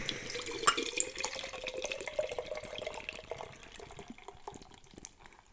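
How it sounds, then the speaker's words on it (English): Beer (Tree House Brewing Evil Julius) pouring into a glass, a steady liquid splash and gurgle that starts strong and gradually softens over several seconds, heard alone without talk. "Pour, pour, pour."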